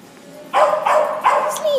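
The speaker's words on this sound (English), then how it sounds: "Oh, look at the dog." A dog in a pet store gives three short, close yips or barks in quick succession, the last trailing into a brief whine.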